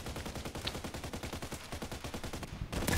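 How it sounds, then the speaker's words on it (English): Rapid automatic gunfire in a shooter video game, aimed at a tree: a fast, even stream of close, loud shots that runs for about two and a half seconds before a brief pause and a final burst. "Can we shoot at the tree at this point?"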